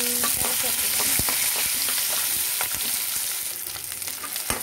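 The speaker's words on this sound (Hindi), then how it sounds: "अब हम इसमें डालेंगे ये प्याज, इसको हल्का सॉटे करेंगे, बहुत ज़्यादा ब्राउन नहीं करना" Onions sizzle lightly in hot oil in a pan, sautéed without browning for a restaurant-style chilli paneer, with a steady close fry and occasional stirring clicks, no speech.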